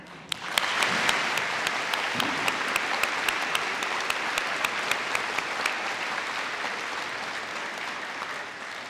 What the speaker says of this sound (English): give a round of applause to express our thanks for our veterans one more time